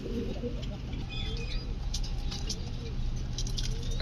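A Blue Satin pigeon and other pigeons coo softly in a loft, the low rolling calls repeating under a constant background hum and faint rustling.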